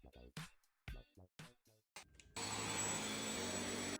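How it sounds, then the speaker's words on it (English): A cordless household vacuum cleaner switches on and runs with a loud, steady broadband whir and a high whine, following a few seconds of speech. "This vacuum finds it for you."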